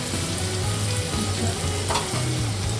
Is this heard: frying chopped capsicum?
yes